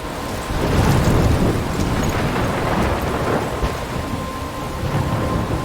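A heavy thunderstorm rolls in Life is Strange, with loud, steady rain and deep rumbling thunder forming a dense, continuous wash of noise, no voices.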